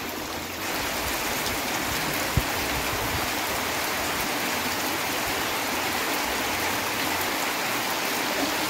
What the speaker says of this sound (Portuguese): Aqui no nosso sertão, quando chove assim.